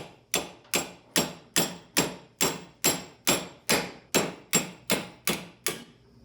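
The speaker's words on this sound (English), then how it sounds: "And you just hammer away" Fifteen sharp metallic hammer blows drive a suspension bushing pin on a Jeep XJ in a steady, even rhythm, each ringing briefly, close up with no talking.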